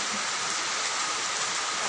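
Steady, dense rain hisses close by without pause while children play out in the downpour; no voices are heard.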